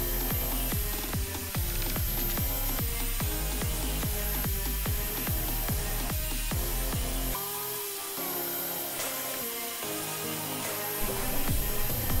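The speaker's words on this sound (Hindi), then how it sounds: "एक साइड से इसको मैं घिस कर इस प्रकार से बना रहा हूँ" A homemade plastic gear being filed by hand, with a steady run of rhythmic back-and-forth rasping strokes close up for about seven seconds, then a rougher, more irregular scraping.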